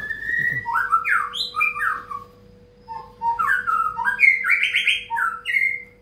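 Long-tailed white-rumped shama singing nearby in clear, varied whistled phrases with squawks and chirps, two bursts separated by a short pause, over a faint steady hum.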